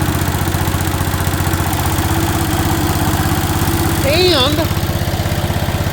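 A 1973 John Deere 140 H3 garden tractor engine runs at a steady, loud idle with a rapid low rumble throughout, while a voice speaks briefly over it near the end.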